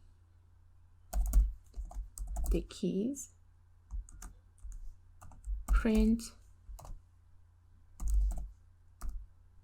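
Someone types code on a computer keyboard during a programming lecture on lists and dictionaries, with quick bursts of key clicks falling between and under a lecturer's steady talk.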